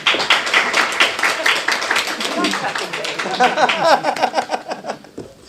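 An audience claps continuously, a dense patter of many hands that fades out toward the end.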